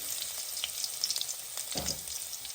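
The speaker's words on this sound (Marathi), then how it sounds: "त्यात एक चमचा तेलामध्ये थोडं परतून घेऊ त्यानंतर एवढी मोहरी टाकून" Garlic paste and mustard seeds fry in a spoonful of oil, giving a soft, continuous hiss with scattered faint pops, close and quiet, with a brief scrape of stirring near the end.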